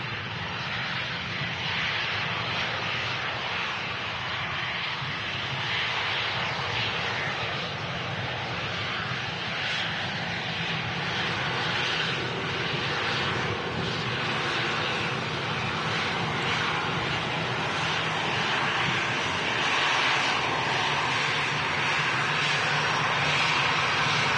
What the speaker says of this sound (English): EasyJet Europe aircraft.